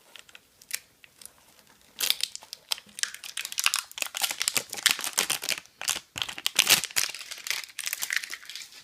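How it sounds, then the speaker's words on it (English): Plastic seal wrapping being torn off the handles of a pickleball paddle set, loud close crinkling and ripping in irregular bursts that build after a quieter start, no speech. "Handles are sealed in plastic. So let's see if I can rip those off just to show you."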